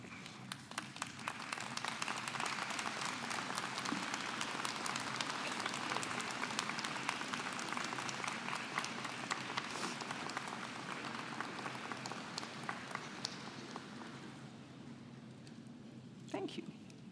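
A graduation convocation audience at the University of Guelph applauds steadily, a dense wash of many hands clapping that fills a large hall and carries on for a long stretch before slowly thinning out.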